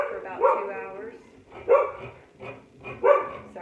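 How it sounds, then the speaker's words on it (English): An Australian Shepherd barks in three separate bursts, each a loud, close bark with a short whine-like tail, spaced roughly evenly apart inside a home. "that's my Australian Shepherd. Always barking at something"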